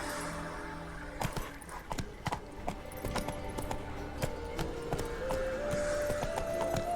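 Hooves of Roach, the horse in The Witcher 3 on PC, clop along in an irregular series of sharp strikes over a steady game ambience, with a rising tonal sound emerging toward the end.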